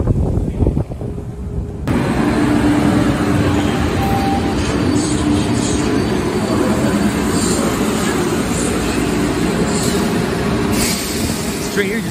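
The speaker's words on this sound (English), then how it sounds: "This train here just creeped up on me out of nowhere." A Boston Green Line train arrives at Union Square, an island-platform station, with a steady loud rumble of wheels on track, occasional faint squeals and a voice briefly audible over the noise.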